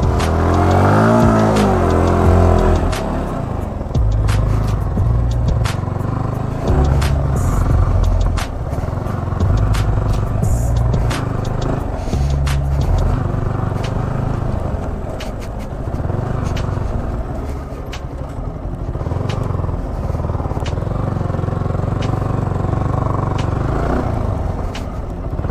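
On a rough off-road path, a Yamaha R15M's engine runs loud and close throughout, with sustained revving and sharp small knocks scattered across the ride.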